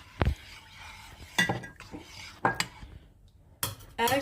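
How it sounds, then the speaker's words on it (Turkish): Whisked yogurt being stirred slowly into milk in a pot, with a few separate clinks and scrapes of a spoon against the rim between quiet pauses. "Çırptığım yoğurdu yavaş yavaş yoğurt sütümün içine karıştırıyorum."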